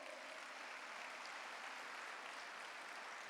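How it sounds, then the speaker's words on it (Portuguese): A church congregation applauds, a steady, faint wash of many hands clapping evenly throughout with no break. "Dê um aplauso ao Senhor."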